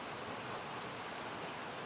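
Morning rain falls steadily, a dense, even hiss with no break and no voices.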